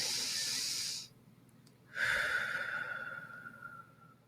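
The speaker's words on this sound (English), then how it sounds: "inhale deeply through your nose, and exhale slowly." Slow, deep breathing, a long airy inhale through the nose followed after a short pause by a drawn-out, fading exhale, close and quiet with no speech.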